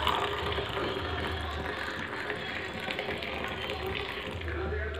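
Milk poured into coffee decoction in a steel tumbler, a steady continuous liquid pour running for several seconds at close range with no talk over it.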